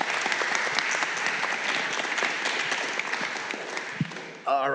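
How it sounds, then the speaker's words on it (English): Sustained round of applause from a panel audience at a public discussion on sanctuary for undocumented Americans, steady and dense throughout, ending as a voice starts to speak. "Please, a round of applause for all the panelists."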